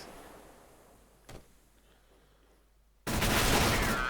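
Gunfire in the shooter CS:GO on the Cobblestone map: a quiet stretch with a single faint click, then a sudden loud burst of shooting that erupts and carries on to the end.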